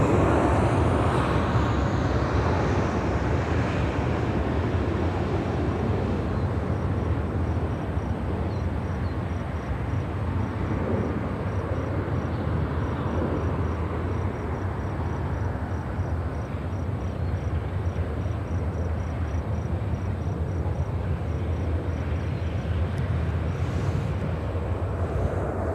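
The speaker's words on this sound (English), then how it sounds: "That was the United Dreamliner heading to Honolulu, flight 219 with United Airlines" A United Airlines Boeing 787-10 Dreamliner departing Chicago O'Hare for Honolulu produces a long, steady jet roar at a moderate distance, holding evenly for the whole stretch with no talk.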